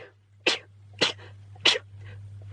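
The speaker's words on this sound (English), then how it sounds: "I need to sneeze." Three sharp sneezes in a row, roughly half a second apart, then the start of a fourth, each a short loud burst over a faint steady hum in a quiet room.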